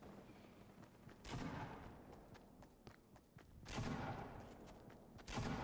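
Distant gunfire in the video game Fortnite, heard as scattered sharp cracks with two louder bursts of shots, over a steady background of game ambience.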